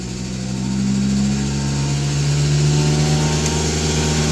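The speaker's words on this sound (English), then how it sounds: "Vent valve closed, vacuum pump on, revs up for some power." A vacuum tanker's pump engine revs up while pumping out a 6000-litre cesspit, a steady loud mechanical drone with strong low harmonics that rises in pitch and holds, close by with no talk.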